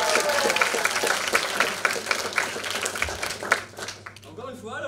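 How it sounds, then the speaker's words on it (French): Audience applause at an evening improv show, a crowd clapping in a dense patter that thins toward the end, with voices talking over it. "Ouais, on applaudit."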